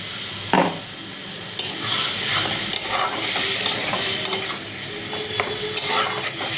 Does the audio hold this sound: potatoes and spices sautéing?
yes